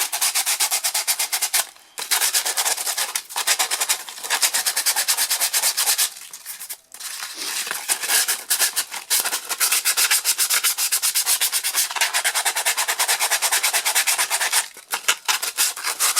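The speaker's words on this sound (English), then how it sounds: "So this one I'm going to sand it down to make it nice and smooth." Sandpaper rubs rapidly back and forth over a hat block, a loud close rasping scrub in quick continuous strokes with a few brief pauses.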